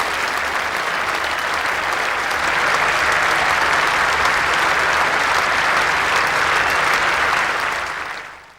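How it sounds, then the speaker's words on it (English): Loud, sustained applause sweeps around a cricket ground as Steve Waugh reaches his second century of the match, a dense continuous roar of clapping that holds steady before fading away at the end. "Loud applause around the ground"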